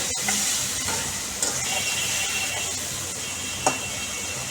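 Potatoes frying in a pan for a raw banana and potato curry as water is added a little at a time, a steady hiss and sizzle with a few sharp clinks and scrapes, close by.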